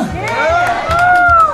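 Outdoor audience at a pumba street performance cheering and whooping, with scattered shouts and children's voices rising over a steady crowd roar, while rhythmic low drumming and a few lively voices carry through.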